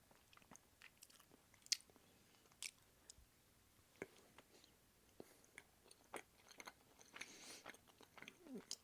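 A Nestle Aero bar of bubbly, porous chocolate is bitten and chewed close up, giving soft, irregular crunches and squishy chewing clicks, with a few sharper bites and a busier stretch near the end.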